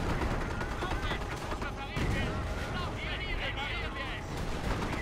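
Dense battlefield gunfire and heavy weapon fire in the real-time strategy game Company of Heroes, continuous overlapping shots and booms with a voice speaking over the combat.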